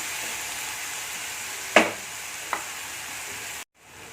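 Chopped onions fry in a pan with a steady, even sizzle, broken by a couple of brief scrapes of stirring before the sound cuts off abruptly. No voices are heard.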